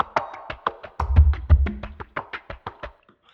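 A stripped-back music loop with the boom kicks, crowd claps and shakers all muted, leaving a steady run of short, evenly spaced plucked hits, with a couple of heavier low thumps near the start before the pattern thins and fades.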